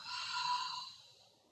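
One long, soft breath pushed out through the nose or mouth during a Pilates exercise, heard close, rising over about half a second and then fading away.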